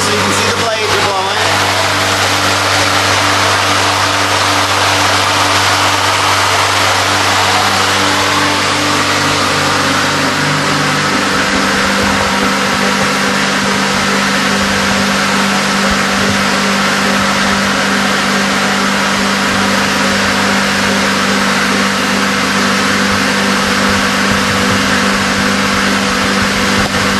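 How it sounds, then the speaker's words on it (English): A loud, close fan hums in a steady broadband whoosh with a low motor drone, its turning blades running continuously throughout. "You can hear the fan blowing."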